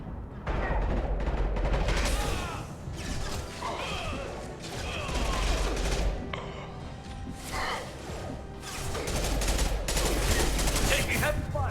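Sustained machine gun fire from a Mass Effect 2 firefight, loud, dense and near, in long rapid bursts with brief lulls, mixed with mechanical clatter and someone talking.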